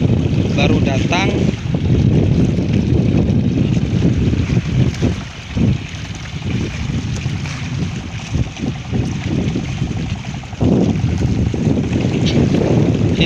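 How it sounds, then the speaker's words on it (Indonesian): Loud engine drone from boats arriving at sea off Mandangin Island, with wind buffeting the microphone and water sloshing, and voices faintly in the background. "Ini kapal banyak yang baru datang."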